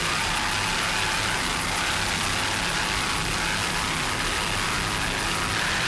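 A 42-foot Fountain V-Class powerboat running twin 572 cubic inch, 1,500 horsepower Stotler racing engines gives a loud, unbroken roar from start to finish, with no voices.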